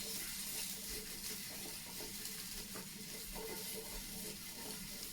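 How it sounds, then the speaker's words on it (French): Gnocchi frying in a pan give off a steady, soft, broadband sizzle that runs without a break, with occasional faint scrapes and stirring knocks underneath. "nous allons continuer à faire revenir les gnocchis dans la poêle"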